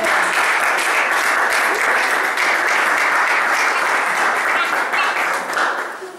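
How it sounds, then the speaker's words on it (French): A church congregation applauds a team at a Sunday service, producing dense, sustained clapping from a large crowd that holds steady and then begins to fade at the end, with no voices over it. "Acclamons cette équipe."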